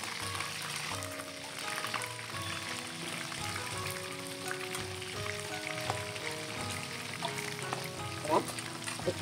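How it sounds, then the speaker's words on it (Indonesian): Fish sizzles and crackles in hot oil in a wok, a steady frying hiss with small pops, while background music plays throughout. "Terus saya ikannya mau saya goreng dulu ya."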